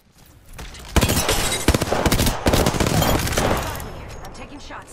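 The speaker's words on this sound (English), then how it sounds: "I am taking fire, friends." Rapid gunfire in Apex Legends pours in around the player, dense close bursts after a quiet start, tapering off toward the end, with a voice talking under it.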